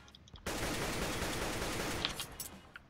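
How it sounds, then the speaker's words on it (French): Gunfire from Counter-Strike on the Cache map, shooting into the vents: after a quiet start, a dense, loud burst of rapid automatic fire runs steadily for about a second and a half, then breaks into scattered shots and clinks. "Et là, on tire dans les vents."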